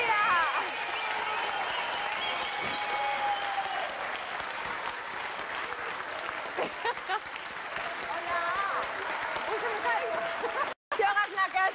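Studio audience applause welcoming a guest singer onto a Spanish television show, loud and sustained clapping with crowd noise and some voices and music over it, nearly continuous before a brief dropout near the end.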